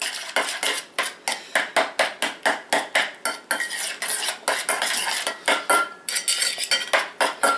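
Taco filling of vegetables being mixed in a bowl with a utensil, a steady run of rhythmic scraping and clinking strokes, close and fairly loud, with no talking.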